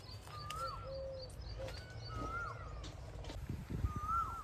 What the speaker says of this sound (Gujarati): કોયલ છે તે બોલતે લઈએ મીઠો અવાજ આવે